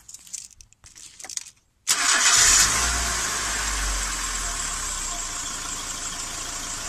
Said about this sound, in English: I'm going to warm the engine up so that the oil flows freely.